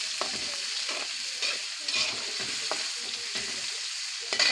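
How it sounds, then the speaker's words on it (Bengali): Onion, chili and tomato fry in hot oil in a pan with a continuous sizzle, broken by repeated scraping strokes of stirring. "এখন পেঁয়াজ মরিচ আর টমেটো একসাথে ভেজে নেব"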